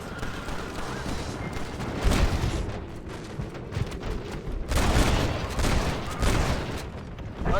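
Repeated gunshots ring out in a Western shootout in Red Dead Redemption near a wagon, firing in loud broadband bursts over a continuous rumbling backdrop of game action.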